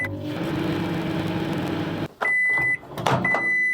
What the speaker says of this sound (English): Believe it or not, you can actually power a microwave.